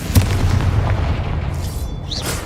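A deep booming explosion from the Confringo spell in the Hogwarts Legacy video game, one heavy close blast followed by a rumbling decay and faint debris.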